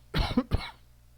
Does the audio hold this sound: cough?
yes